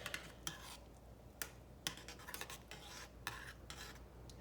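Onion soup stirred in a pot, with a spoon knocking against the sides in scattered, distinct clinks over a quiet background; no voices.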